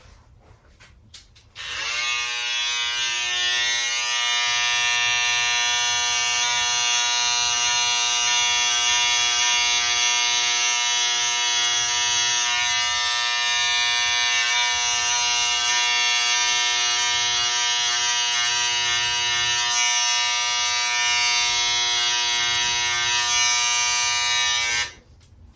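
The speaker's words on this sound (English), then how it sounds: "Set your first guideline with your trimmers." Electric hair trimmers buzz steadily for about twenty-three seconds while setting a guideline in a home haircut, switching on and off abruptly, close and alone with no speech.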